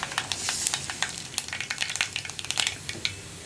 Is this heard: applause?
no